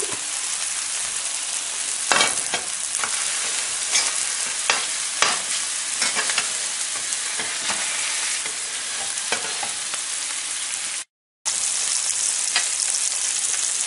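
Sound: homemade Italian sausage patties searing in a pan

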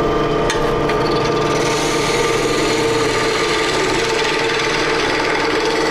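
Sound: wood lathe turning a hollow form

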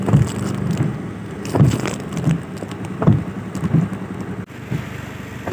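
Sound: heavy rain

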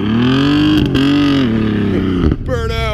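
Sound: car engine revving during a burnout

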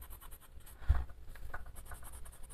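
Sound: coloring with a pencil on paper

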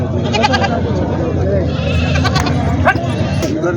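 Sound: goats bleating at goat market

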